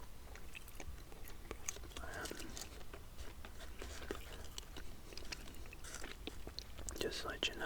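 PK chewing gum with a sugary crunch is chewed very quietly up close, soft wet smacks and faint crunches repeating steadily, with whispering heard alongside.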